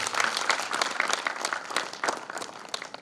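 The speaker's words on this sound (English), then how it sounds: "Give a big applause to him." A conference audience of radiographers and technologists claps for a guest, brisk uneven applause that sounds moderately close and fairly quiet, with scattered individual claps standing out.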